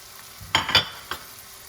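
Fried rice with short rib stirred in a pan: a few quick scraping, sizzling strokes, two close together and a softer third, over a quiet background.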